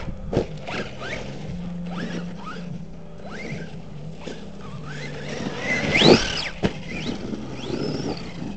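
An HPI Maverick Quantum Flux MT 4x4 RC monster truck on its first run, its electric motor whining and rising in pitch through repeated bursts of throttle, with a sharp squeal near the middle and a few bumps, fairly close.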